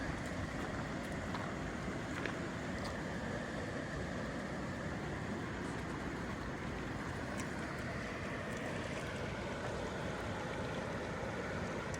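The Clark's Fork river in the Beartooth mountains flows with a steady, even rushing wash that continues unbroken throughout, with no voices.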